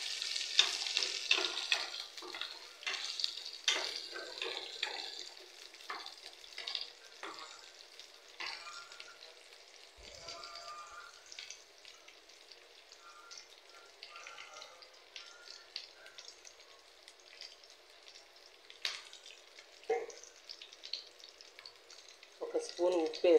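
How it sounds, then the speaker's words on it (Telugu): Onions added to hot oil after garlic fry in a pan with a light, crackling sizzle and scattered stirring taps, close and quiet, continuing throughout. "ఇప్పుడు ఆనియన్స్ వేస్తున్నానండి"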